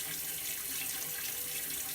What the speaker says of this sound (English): And then you flush and let some water run.